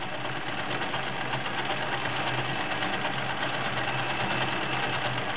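A Janome 900 convertible free-arm sewing machine runs steadily while stitching a stretch pattern, giving a constant close whirring hum with a fast mechanical rhythm and no talk.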